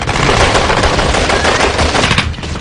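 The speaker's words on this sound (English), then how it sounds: "A furious gun battle ensues." Dense, rapid gunfire rattles continuously during the 1972 Munich Olympics attack at the airport, automatic bursts overlapping into a loud, sustained barrage that eases slightly near the end.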